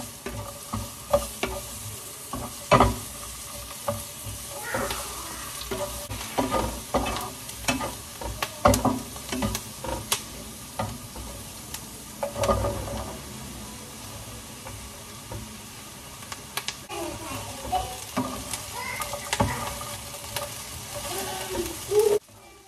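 Onions stir-fried in a pan for a sitaw dish sizzle steadily, with repeated scraping and stirring strokes throughout, close and moderately loud, no talking.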